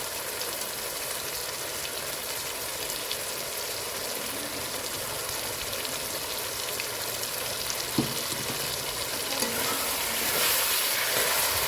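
Chilli chicken stir-fried in a pan with soy and tomato sauce gives a steady, loud sizzle that runs unbroken from start to finish, with an occasional soft clink of stirring.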